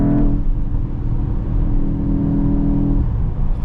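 A Mercedes-AMG GT63 hybrid V8 pulls hard in fourth gear on the German Autobahn, heard from inside the cabin as a loud, steady, deep droning hum with a slight dip near the end, partly boosted through the speakers.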